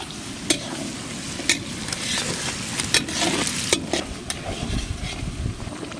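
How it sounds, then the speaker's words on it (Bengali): Ginger paste goes into lightly fried onions in a pan for chicken curry, with a loud, continuous sizzle and irregular scraping clacks of the spoon against the metal as it is stirred. "পেঁয়াজটা হালকা ভেজে নিয়েছি, এখন দিয়ে দেবো আদা বাটা"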